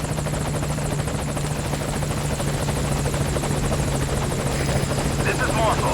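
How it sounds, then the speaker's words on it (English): In the Metal Gear Solid V video game, a support helicopter arrives at the landing zone. Its loud, continuous rotor thrum and engine drone fill the whole stretch, with voices over it. "We called for the helicopter."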